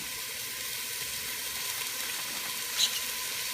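Beef curry masala sizzles in a pan as a steady, close, even hiss with one brief louder crackle near the end.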